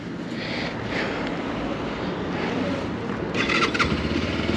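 Keeway RKR 125 motorcycle engine starting, a steady rough mid-level engine note under wind noise, rising slightly louder with a brighter burst near the end.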